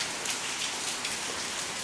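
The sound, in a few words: rain falling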